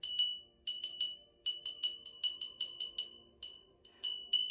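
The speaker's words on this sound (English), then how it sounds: "I like to clear the energy a little bit with my old Fenton bell" An old Fenton glass bell rings in quick repeated clusters of bright tinkling strikes, each fading briefly before the next run, close and clear in a quiet room.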